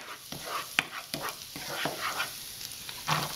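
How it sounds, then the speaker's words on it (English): A tablespoon of garlic hits a hot pan and fries with a soft, steady sizzle, a few sharp crackles and pops scattered over it, close by and fairly quiet, with no talk. "So this is 1 tablespoon of garlic. And I'm doing this in a pan first"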